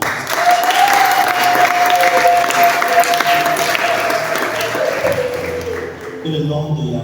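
A church congregation applauds loudly and continuously, dense clapping filling the room with a sustained voice or tone running under it, easing slightly near the end.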